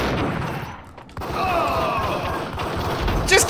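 Rapid gunfire in the video game Max Payne 2 bursts in dense, loud volleys, with short gaps and crashing impacts layered over the game's sound mix.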